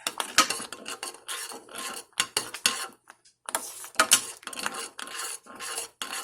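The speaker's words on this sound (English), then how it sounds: "And I'm stirring." Spoon scraping and clinking against a pot while stirring thick Jamaican cornmeal porridge with coconut cream, a rapid irregular run of scrapes and knocks in short bursts with brief pauses, close and fairly quiet.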